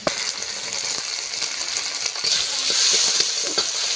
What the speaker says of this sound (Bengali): চিংড়ি মাছগুলো তেলে একটু হালকা নাড়া তাড়া দিয়ে ভেজে নেবো